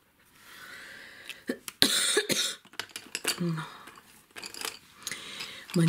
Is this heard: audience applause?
no